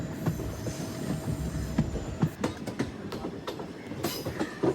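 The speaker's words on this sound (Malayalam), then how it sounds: "അങ്ങനെ കൊല്ലം ചെന്നൈ എക്സ്പ്രസ് വന്നു, അതിൽ കയറി." The Kollam–Chennai Express rolls along the rails on a slow stretch near Punalur, a steady rumbling ride from on board with rhythmic clicks and knocks from the wheels and occasional brighter metallic screeches.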